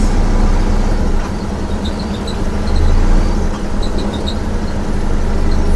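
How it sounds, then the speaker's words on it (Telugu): Jammed traffic of cars, buses and trucks at the Suryapet bypass on the Hyderabad–Vijayawada highway during the Sankranti season, a dense, loud, continuous rumble of idling engines and road noise close by. "ట్రాఫిక్ అయితే జామ్ అయింది ఫుల్ ట్రాఫిక్ జామ్ కార్లు బస్సులు ఇంకా స్టార్ట్ కాలే"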